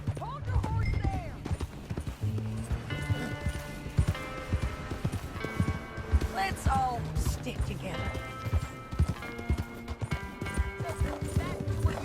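Horse hooves clip-clop at a steady walking rhythm in a Western open-world video game, Red Dead Redemption 2, with an occasional whinny, running under game music and character dialogue.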